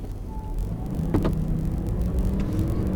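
On the Exotics Racing track in Las Vegas, an Audi R8 engine drones close and loud as it accelerates, with a brief break in the tone as it upshifts. No one speaks.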